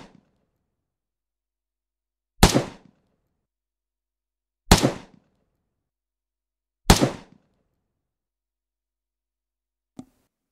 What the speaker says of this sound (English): AK close miking, sounds like this.